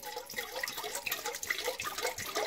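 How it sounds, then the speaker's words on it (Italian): A litre of room-temperature water pours into the bowl of a stand mixer for homemade pizza dough, a close, continuous splashing gush that stays steady throughout. "Nell'impastatrice mettiamo 1 litro d'acqua"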